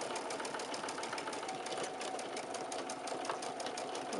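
A sewing machine steadily stitches a quilt block with a quarter inch seam, giving an unbroken, close, even whir that lasts the whole time.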